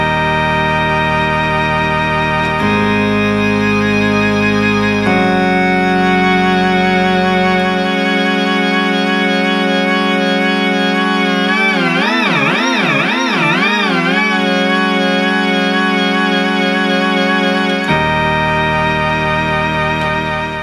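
Opus 3 synthesizer organ section playing sustained chords, a stretch of deep warbling LFO frequency modulation sweeping the pitch, and echoing delay repeats, loud and steady, alone with no voices.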